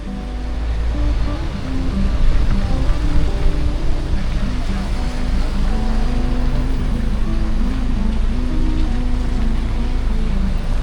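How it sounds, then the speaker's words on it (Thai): Rain falls at Bangsaen beach in Thailand as a steady, dense hiss of water under broad surf-like noise, while people talk throughout. "เรียบร้อยมาถึงหาดบางแสนบรรยากาศฝนตก"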